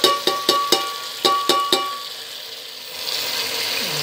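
A spoon scrapes and clinks against a frying pan while mutton and tomatoes are mixed, several sharp metallic strikes in quick succession, followed by a softer sizzle-like rustle.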